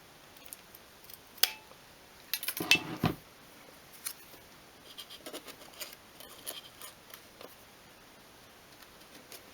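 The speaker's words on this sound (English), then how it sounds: "I'm using my handheld mitre cutter just to trim them to size." A handheld mitre cutter trims thin miniature wooden floorboards for a 1/12 scale craft shed, giving a few sharp, close snips and clicks scattered among faint tapping and handling noises in a quiet room.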